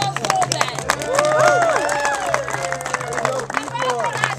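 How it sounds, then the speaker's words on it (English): A theatre audience at a Robin Hood's Wedding show applauds loudly, with whoops, cheers and excited voices mixed into the steady clapping. "Another round of applause for them."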